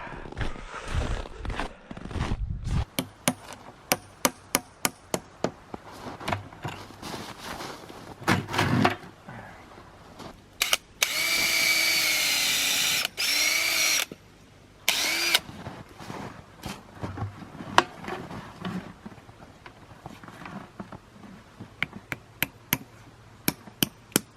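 A power drill whirs steadily for a few seconds, boring a tap hole into a maple tree, set among scattered sharp knocks and clatters outdoors, with a second shorter burst of drilling after.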